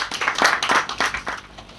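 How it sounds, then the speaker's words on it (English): A small audience claps for a board chairman invited to give a speech at a formal ceremony, a short burst of scattered clapping that fades after under two seconds. "Let's give me a round of applause"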